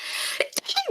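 A single short sneeze bursts out near the middle, followed by brief vocal sounds, set in a quiet room during a casual gaming conversation.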